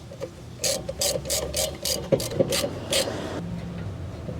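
Quick clicking bursts of a hand tool turning small Allen bolts on a rear brake caliper of a 2017 Honda CR-V, several rapid ratchet-like runs close by with no talk.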